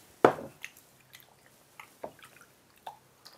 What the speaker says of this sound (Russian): Холодной водой я их споласкиваю.